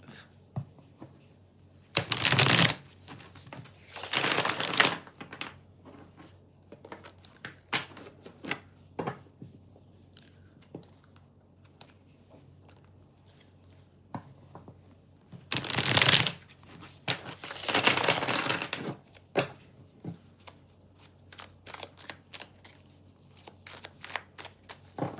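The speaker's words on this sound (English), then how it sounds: "Shuffle." Tarot cards being shuffled during a live reading, with two long riffling bursts separated by many quick single taps and flicks of the cards, close and crisp against a quiet background.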